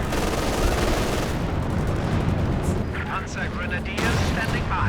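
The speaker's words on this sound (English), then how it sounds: "We've got some howitzer fire coming in." Howitzer artillery fire in Company of Heroes 2: dense, continuous booming and rumbling blasts with heavy low-end impacts, loud throughout, under faint game chatter.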